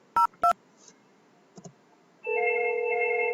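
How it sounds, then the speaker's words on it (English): A Htek IP phone on a 3CX system dials extension 102: two short key beeps, a few faint clicks, then a steady electronic ringback tone starts and holds, clean and close with no talk. "we just use 105 to call 102 extension"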